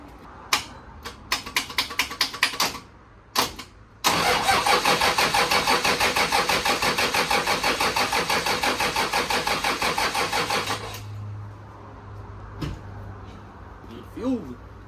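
A car engine cranks in a rapid rhythmic churn for about six seconds after a jump-start with jumper leads, preceded by short bursts of cranking, then dies down to a low hum, with faint voices near the end.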